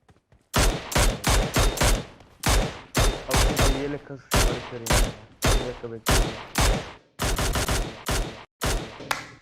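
Rapid bursts of gunfire in a video game as a bot is shot, loud and close, with volleys repeating in quick clusters across the whole stretch and brief gaps between them.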